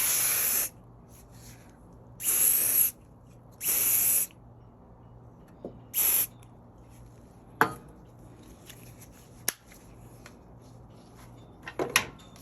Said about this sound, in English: I'm just going to spray that with some stick fast activator